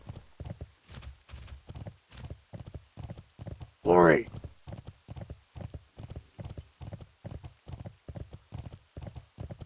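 Rhythmic horse hooves clip-clop at a steady walking pace in World of Warcraft, with a horse whinnying midway; a voice speaks briefly.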